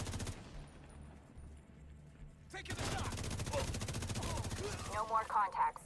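Minigun fire in the shooter game The Division 2 breaks out after a quieter stretch of ambience, a rapid, sustained stream of shots with further bursts and impacts near the end, fairly faint overall.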